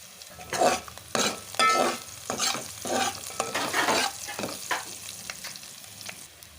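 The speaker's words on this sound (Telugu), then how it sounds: "ఇలా ఆయిల్లో అయితే మంచిగా వేయించుకోవాలి" Tuna curry ingredients fry in hot oil with a steady sizzle, broken up by repeated bursts of scraping and stirring in the pan, loud and close.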